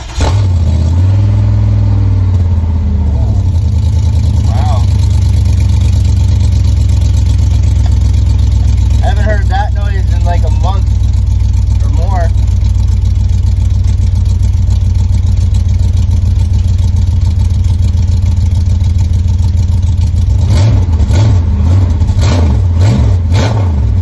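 A Chevy LS swap engine mounted on a stand fires up and settles into a loud, steady idle, then revs in sharp bursts toward the end while people talk nearby.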